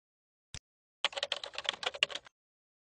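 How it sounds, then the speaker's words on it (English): A computer keyboard typing a command at a prompt: one isolated key tap, a pause, then a quick burst of a dozen or so close, crisp clicks before silence. "Type stopserver.bat server name."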